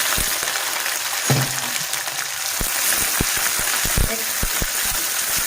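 Sliced onion and garlic fry in a pan for a local chicken curry, a dense continuous sizzle close by with scattered pops and spoon clicks.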